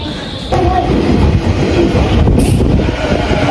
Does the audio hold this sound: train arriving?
yes